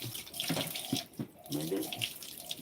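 Water from a burst pipe gushes and splashes close by in uneven, sputtering surges, fairly faint overall.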